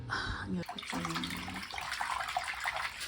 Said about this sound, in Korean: 여기에 그 세제를 좀 풀어서 유니폼을 좀 담가 놓겠습니다